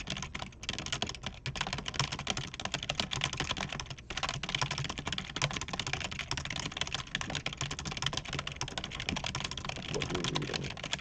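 Fast, continuous typing on a computer keyboard at a steady speed-typing pace. The dense stream of close key clicks runs almost without pause, and no voices are heard.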